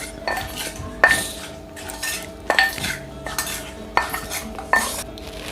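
Seasonings are stirred into a spicy chicken-feet papaya salad, with a utensil clinking sharply against the bowl about every second amid softer scraping and mixing.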